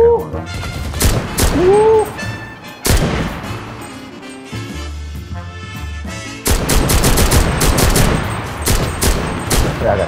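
Bursts of gunfire in the online shooter CRSED, rapid volleys and single cracks with heavy fire near the start and a dense barrage in the second half, while players shout and talk over it.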